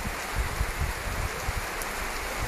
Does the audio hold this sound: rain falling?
yes